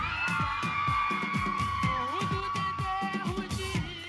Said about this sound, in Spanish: Un fuerte aplauso de Bosonan School Mon Plaisir.